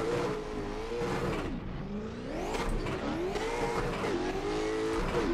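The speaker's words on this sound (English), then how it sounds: "God, this car's so loud." A drift car with a sequential gearbox revs loudly and continuously on the Irwindale track, its engine note rising and falling steadily as it pushes through the run, with no talking over it.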